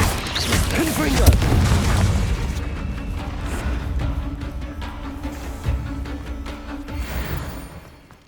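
A Confringo spell explodes in the Hogwarts Legacy video game. A loud booming blast rumbles, fades into a lighter crackling tail, and softens toward the end. A voice calls out over it.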